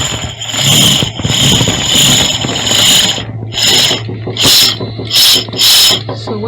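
Industrial sewing machine bobbin winder whirring steadily against the hand wheel with a constant mechanical hum, broken by repeated bursts of high rattling and clicking toward the end, with no talk.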